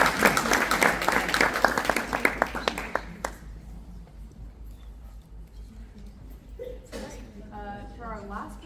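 An audience at a presentation event claps together in dense applause that thins out into scattered, fading claps within a few seconds, with voices heard faintly afterward.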